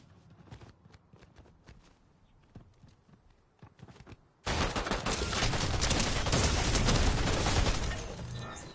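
Scattered sharp gunshots in a video game give way to a sudden loud, sustained burst of rapid fire and heavy rattling that dominates the second half.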